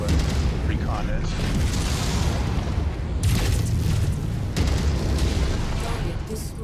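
Explosion as a target is destroyed in the mech combat video game MechWarrior 5, heavy booming blasts within a continuous loud rumble of battle, with a voice talking over it.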